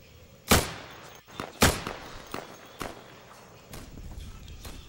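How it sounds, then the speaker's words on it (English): Gunshots in the shooter game Insurgency during co-op play: several sharp, loud cracks spaced unevenly, with fainter distant shots between them. "Where's that gunfire coming from?"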